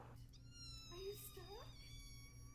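A cat meows as if stuck, giving a couple of short, rising-and-falling cries, faint and close, over a steady low hum with a soft voice nearby.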